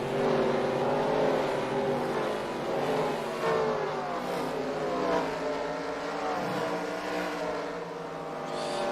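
Sprint car engines roar steadily as the number 36 car heads into turns 1 and 2 at the Knoxville Nationals dirt track, a dense, sustained wash of several motors with wavering pitch heard from a distance.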